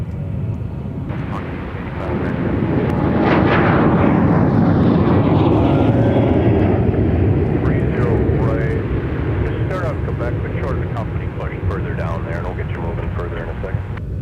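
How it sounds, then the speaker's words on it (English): A Sun Country airliner departs runway 30 left at Minneapolis–St. Paul airport, its engine roar building loudly and holding steady as it passes, with people talking over it. "Sun Country off to Tucson, Arizona, departing 30 left."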